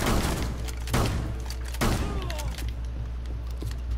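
A pump-action shotgun fires in a video game: two loud, booming blasts about a second apart over a steady low game hum, each with a short rattling tail.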